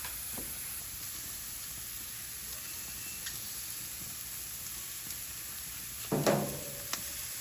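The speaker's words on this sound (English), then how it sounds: "Looks like we're gonna cook my dinner tonight on the new grill." Dinner sizzling on a Monument Denali 605 gas grill: a steady, even hiss with faint ticking throughout and a brief clatter near the end.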